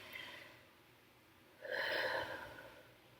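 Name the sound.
deep breathing in and out, breathing exercise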